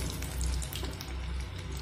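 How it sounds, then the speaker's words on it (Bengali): Pakoras deep-frying in hot oil over a high flame, a steady loud bubbling sizzle that runs unbroken throughout with no voices. "হাই ফ্লেমে আমি 2 থেকে 3 মিনিট মতো ভেজে নেব।"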